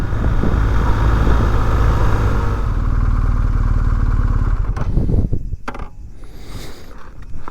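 A motorcycle rides along the Spanish-French coastal border, its engine droning loudly and steadily close to the microphone, then easing off into wind buffeting and rattling clatter near the end.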